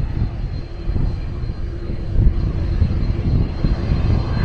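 A fixed-wing airplane flies low over Mai Khao Beach in Phuket on its approach to land, its engine a loud, steady roar that builds slightly toward the end with no voices over it.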